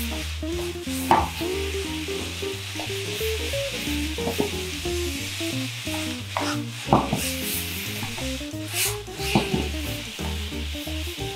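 Napolitan spaghetti with ketchup stirred and fried in a pan: a steady close sizzle with scraping utensil strokes throughout, under music and with no talk.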